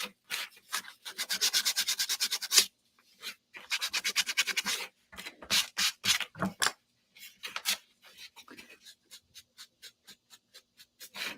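Sandpaper rubbed by hand across a wooden sign in quick strokes: two long, fast bursts of rasping scrubs, then shorter, sparser passes, close and fairly quiet, with no talk.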